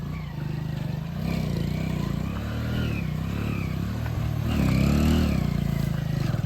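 A motorcycle carries riders over a badly broken road, its engine droning steadily close by. The pitch rises and falls with throttle, and it swells louder near the end.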